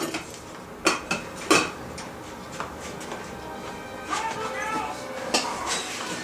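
A spoon stirs rice in a pot on a stovetop, giving a few sharp clinks and scrapes against the metal near the start, then quieter scattered taps over low kitchen background noise.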